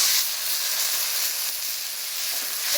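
Water poured onto hot spice paste of turmeric and chili powder in a pan makes a loud, steady bright hiss and sizzle that holds evenly throughout.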